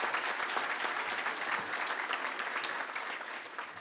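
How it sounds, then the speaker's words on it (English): Audience at a regional chamber of commerce annual meeting applauding award recipients, a steady room-filling patter of many hands clapping throughout, fairly distant and even. "Can we please have another round of applause for all of our award recipients?"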